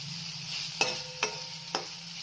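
A spoon stirs a masala mixture of chili powder, turmeric and homemade garam masala in a pan, three sharp scraping strokes over a steady low sizzle, close and alone.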